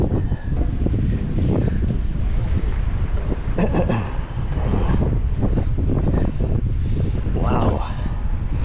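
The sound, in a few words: wind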